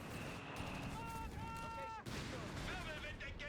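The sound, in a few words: gunfire and Flak Panzer shots in Company of Heroes 3 video game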